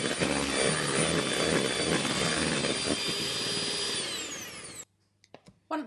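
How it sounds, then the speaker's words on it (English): Electric hand mixer whisking lemon muffin cake batter, a loud, steady motor whine that runs for several seconds, then winds down and stops, followed by a few quiet clinks and knocks against the bowl. "a hand mixer. Takes all the hard work out of this, and it also allows us to whisk a lot more air into the cake"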